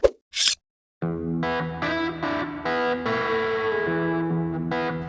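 A few short sharp bursts, then a series of sustained, raspy, pitched calls with breaks between them, imitating a turkey hen on a mouth call.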